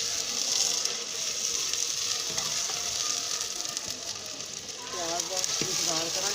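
Two onions sizzle and crackle steadily in hot ghee in a pan, a dense, even frying hiss close to the microphone with faint clinks near the end.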